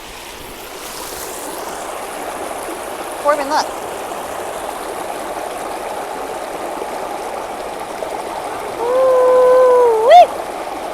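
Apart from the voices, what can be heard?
small waterfall in a stream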